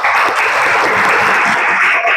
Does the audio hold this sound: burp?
no